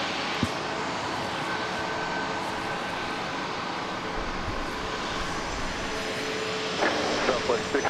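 A Southwest airliner lands on runway 13 left at Dallas Love Field, its broad engine roar holding steady and fairly loud throughout, with a slight swell near the end.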